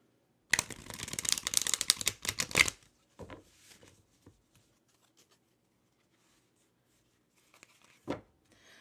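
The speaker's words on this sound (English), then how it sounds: "I always shuffle my cards before I pull anything." Tarot cards shuffled by hand in a rapid, dense riffling burst lasting a couple of seconds, close and crisp, followed by a few softer card taps and slides, a quiet pause, and one final brief shuffle.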